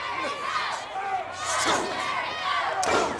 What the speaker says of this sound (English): The fans are cheering for Terry, and Terry's fighting back.